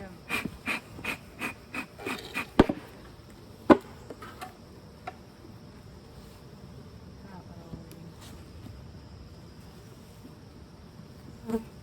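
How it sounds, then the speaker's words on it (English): Honey bees from an opened hive in an urban beekeeping inspection buzz faintly throughout, under a series of sharp knocks and clatters in the first few seconds and occasional later thumps. "Like there's a good number of bees in this one too."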